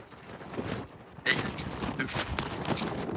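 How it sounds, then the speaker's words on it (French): Wind buffets the microphone on a rooftop helipad in Tokyo, a steady rushing roar that grows stronger and gustier partway through, with no talk over it. "Là on se rend pas compte mais il y a là le vent."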